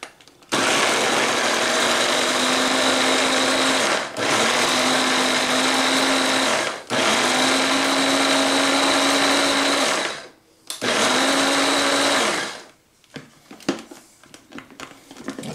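A small food processor blends canned pineapple chunks in four loud, close bursts of high whirring motor, each stopping sharply, followed by clattering and handling noises.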